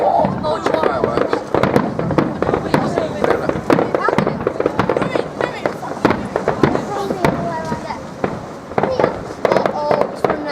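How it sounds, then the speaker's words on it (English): Fireworks display at Clacton Pier on a bank holiday, with dense rapid bangs and crackles bursting throughout, loud and close, while people talk and call out in the crowd underneath. "Watch your fireworks."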